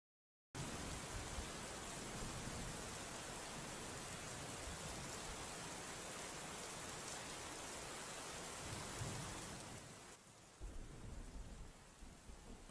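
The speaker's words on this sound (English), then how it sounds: "What if I turn on rain at the corpse.store?" Steady rain ambience played from a website during a livestream, a dense, continuous hiss of rainfall with a rumbling thunderstorm character, loud and unbroken for about ten seconds before dipping slightly quieter.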